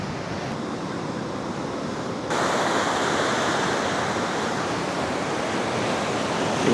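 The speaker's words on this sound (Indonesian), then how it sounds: "Ini dia punya ombaknya besar." Big ocean waves break on a shore near a shipwreck site, a broad continuous roar of surf with a swell in intensity partway through, steady and enveloping with no voices.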